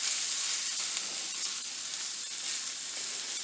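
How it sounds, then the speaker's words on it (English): Arborio rice sizzles and fries in a pan for risotto while being stirred, a steady soft hiss with faint scraping throughout. "this is arborio rice, which is traditionally used for risotto. And you just want to stir this in here"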